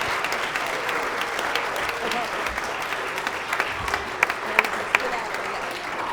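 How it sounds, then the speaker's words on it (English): A church audience on Christmas Eve applauds children after their performance, a broad wash of clapping with a few sharper individual claps standing out near the end and faint voices underneath. "Let's give them another round of applause."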